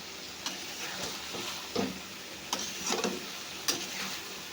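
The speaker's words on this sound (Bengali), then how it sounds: "এবার সব মশলাগুলোতে ভালো করে মিশিয়ে নেব।" Paste and spices being stirred in a frying pan, a soft sizzle under scattered scraping strokes and clicks from a spoon against the pan, steady and fairly quiet.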